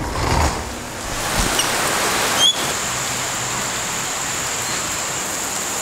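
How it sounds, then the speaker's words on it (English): Steady rain hisses down outdoors, a constant wash of noise with a brief thump partway through and no talking. "there's a bit of rain coming down."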